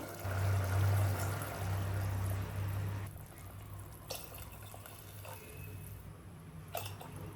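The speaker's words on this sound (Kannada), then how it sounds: "ಇದೇ ಗ್ಲಾಸಲ್ಲಿ ನಾನು ನೀರು ಕೂಡ ಹಾಕೋತಾ ಇದ್ದೀನಿ. 3 ಗ್ಲಾಸಷ್ಟು ನೀರು ಹಾಕೋತಾ ಇದ್ದೀನಿ." Three glasses of water are poured from a glass into a pot of spiced masala for fenugreek leaf rice, a close gushing pour for about three seconds, then scattered drips and small clinks.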